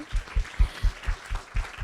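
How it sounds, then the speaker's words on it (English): A small audience at a chocolate flavor science talk gives a brief round of applause, about eight soft, evenly spaced claps, faint and close. "Let's give a quick round of applause."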